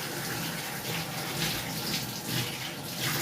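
Tap water runs continuously while hands are washed beneath it, a steady close hiss and splash of the stream that varies slightly as the hands move, with no talking.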